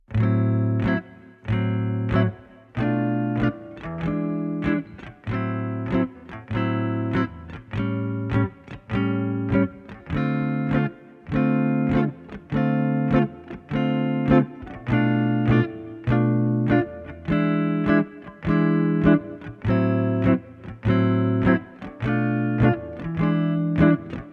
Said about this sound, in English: what you want to try to do is strum quarter notes.